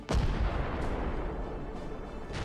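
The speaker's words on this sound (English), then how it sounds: "A massive explosion." A drone strike hits an armored personnel carrier in a single loud, sharp blast, followed by a sustained rumbling roar and scattered debris crackle with a couple of fainter later pops.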